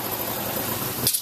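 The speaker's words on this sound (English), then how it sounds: "We're spraying inside of each one of these compartments here and over the rail on each one of these places here" Rhino Linings bedliner sprayed inside the compartments of a city road paint truck, a continuous loud close hiss of spray equipment that drops away in the final moment.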